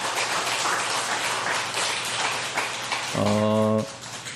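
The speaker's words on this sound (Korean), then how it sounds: "박수 한번 위로 한번 해주시죠" Church congregation applause at a Sunday afternoon service, a soft patter of clapping that runs briefly before a held musical tone cuts in near the end.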